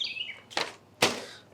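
Pet birds chirping indoors during a quilting sew-along, a short high warbling call at the start, then two sharp rustling bursts like wing flaps, fairly close with no talking.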